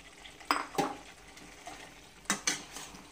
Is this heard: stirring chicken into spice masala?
yes